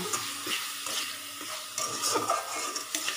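Masala of salt, turmeric, chili powder, cumin, coriander and a little sugar sautéed in oil, a soft steady sizzle broken by repeated close scrapes and stirs of a spoon against the pan, with no talking.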